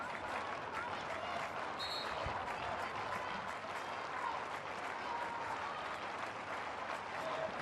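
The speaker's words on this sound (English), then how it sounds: "Got our fullest crowd, or biggest crowd, should I say, of the tournament so far here today." A large crowd at a women's field hockey Champions Trophy semi-final in Argentina applauds and cheers in a continuous, distant wash of clapping and murmur, with a commentator's voice faintly over it.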